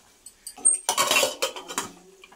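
Metal clinks and clatters close by as a pressure cooker lid and its whistle weight are handled and fitted, a short burst of rattling knocks.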